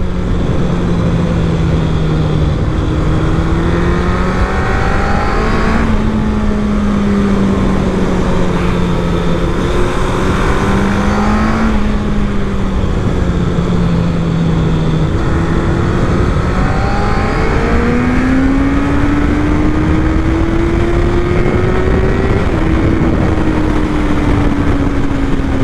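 A Chinese sport motorcycle (CFMoto 675 SR-R, Zontes 703RR or QJMotor SRK800RR) revving hard under way, a loud continuous engine whine climbing and easing in pitch through gear changes for nearly half a minute, close and unbroken.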